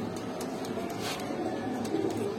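A Gorra pigeon pair in a dealer's loft gives low, muted coos that blend into a constant background hiss, with no distinct peaks.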